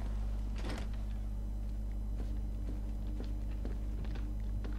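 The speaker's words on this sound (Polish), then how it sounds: "Otwieramy drzwi." A door opens in the video game Batman Arkham Knight, a sharp close knock followed by scattered lighter clunks over a steady low game hum.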